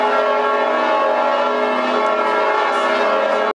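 Church bells in Vittoriosa, Malta ring continuously, their rich, overlapping tones sustaining loudly throughout before cutting off abruptly at the end.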